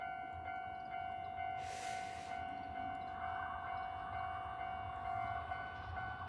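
Train passing in Kawagoe, Japan, heard as a steady rumbling roll of railcars with a sustained tonal hum and a short bright burst partway through, moderately close and continuous, with no talk.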